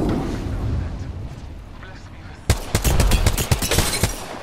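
A thermite grenade in a shooter video game goes off amid a firefight: a low rumbling backdrop gives way halfway through to a loud, rapid run of crackling, popping bursts that keep sputtering to the end.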